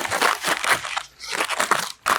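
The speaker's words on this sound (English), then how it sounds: "I'm gonna trim off any extra. Got a pair of scissors." Scissors snip and crinkle through a sheet of baking paper being trimmed around a cake mould, giving a run of close, papery crunching cuts with a brief pause midway, no talking.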